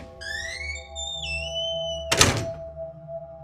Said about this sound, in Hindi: दरवाज़ा मेरे पीछे जोर से बंद हो गया